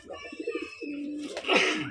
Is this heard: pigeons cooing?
yes